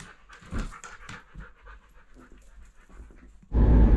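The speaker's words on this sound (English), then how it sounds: "Ollie, you want to go dog sledding?" A Belusky sled dog pants in quick rhythmic breaths close up, with a few louder huffs, before a sudden loud burst of noise cuts in near the end.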